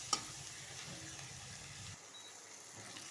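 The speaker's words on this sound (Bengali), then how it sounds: "সব একসাথে ভালো করে নাড়াচাড়া করে নেব।" Onion, tomato and garlic with turmeric fry in oil in a pan on the stove while being stirred. A faint sizzle runs under soft scraping strokes, with a sharp clink near the start and no talk.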